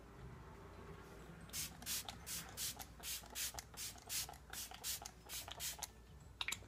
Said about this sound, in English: I'm just going to end it with my Smashbox Photo Finish spray